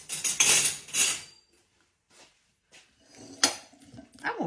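Metal spoons and kitchen utensils rattle and clink as someone rummages through a spoon jar on a home kitchen counter, bursts of jangling with pauses, close and fairly loud.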